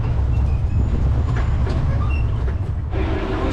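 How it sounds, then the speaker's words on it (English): A land tourist train rolls through Cannes with a steady low rumble and rattle of wagons, loud and continuous throughout, with no voices. "we've just got back on the train in a different position"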